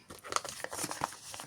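Close crinkling and tearing of adhesive tape being pulled from plastic packaging, a quick burst of crackles and rips.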